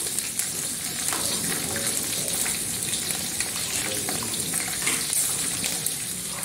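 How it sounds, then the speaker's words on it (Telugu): Green chillies tossed into a pan of roasting peanuts give a steady, dense sizzle and crackle of frying, close and continuous without pause. "ఈ పల్లీలు ఇలా కలుపుకున్న తర్వాత వేగిన తర్వాత దీంట్లోకి మిరపకాయలు వేసుకోవాలి"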